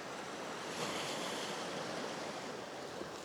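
Sea waves heard from a coastal viewpoint near Ouranoupoli, Greece: a soft, continuous wash of surf with some wind rumble, distant and faint, with no voices.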